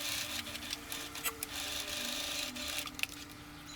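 A sewing machine stitching a bodice seam for a puff sleeve dress, a continuous close whirring hum with rapid needle ticks and a few sharper clicks, heard alone without talk.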